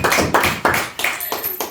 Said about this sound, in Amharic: እስኪ አንዴ ለእኛም ለራሳችሁም ለዓመት በዓሉ አጨብጭቡ